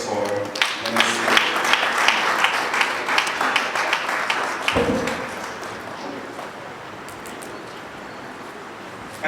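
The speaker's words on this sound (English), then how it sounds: "A round of applause for Nancy." Audience applause in a hall at a bar association plenary session, loud dense clapping for the first few seconds, then thinning into scattered claps and fading out.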